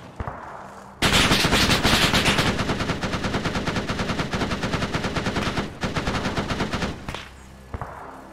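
Sustained automatic gunfire in the military shooter game Arma 3, a loud burst of rapid shots starting abruptly and continuing for about six seconds, then a few isolated shots, with no talking.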